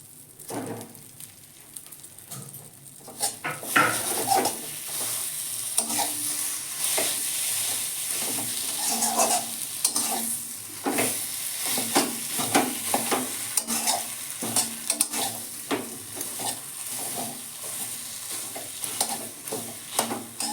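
Potatoes coated in salt and oil fry in a pan, a steady close sizzle that swells into dense, crackling spatter with scraping stirring sounds over about twenty seconds.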